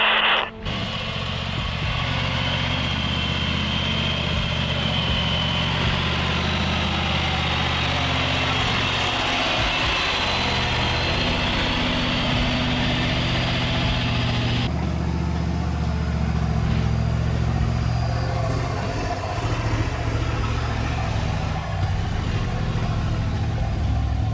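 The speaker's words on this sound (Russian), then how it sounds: "КамАЗ, давай, выкатывайся. КамАЗ пошел." A KamAZ truck's heavy diesel engine rumbles steadily and loudly nearby for the whole stretch, a low throbbing drone with little change, during a heavy salvage operation.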